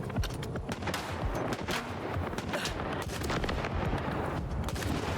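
Rapid gunfire cracks and booms in Stalker 2, a dense burst of repeated shots with echoing impacts, loud and close, with no talk.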